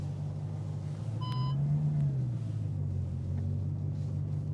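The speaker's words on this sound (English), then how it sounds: "Now it's gonna pop into the reverse here." Bugatti Chiron Sport hypercar, a 1500 hp machine, idling with a steady deep engine rumble that swells briefly as it shifts into reverse, marked by a short electronic chime near the start.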